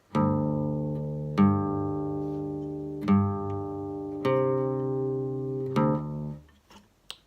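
Guitar strings in D standard tuning plucked one at a time, each note ringing out and decaying slowly, five in a row with a brief scratch at the end.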